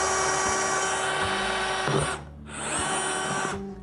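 A power drill runs loudly and steadily, dips to a quieter tone partway through, then spins back up to full speed.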